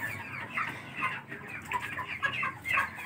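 White broiler chickens cluck and chatter together on a poultry farm, a continuous close flock murmur with overlapping calls and no voices.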